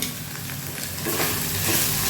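Chicken pieces with half of a large boiled potato frying in a pan over lowered heat, a steady close sizzle with light stirring scrapes, growing slightly louder partway through.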